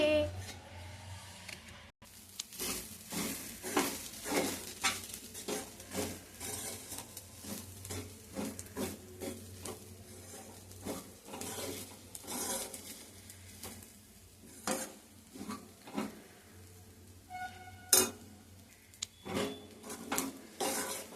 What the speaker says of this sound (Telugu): ఇప్పుడు బాగా కలుపుకుందాం ఫ్రెండ్స్. బాగా కలిపేసిన తర్వాత కాసేపు అలా ఉంచితే బాగుంటుంది అనుకున్నాం.